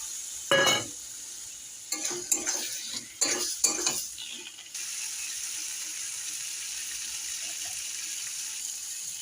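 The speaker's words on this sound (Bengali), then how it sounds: "লঙ্কার গুঁড়ো দিলাম ভালো করে করতে হবে আলুগুলো দিয়ে দিলাম" Potatoes and chili powder stirred in a pan while making ghugni. A few scraping, clinking strokes of a utensil sound close in the first half, then a soft sizzle continues alone.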